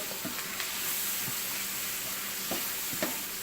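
Flour being stirred into coconut curry shrimp sizzling in a pan for a spicy Jamaican dish, with a steady frying hiss and a few soft spoon scrapes against the pot.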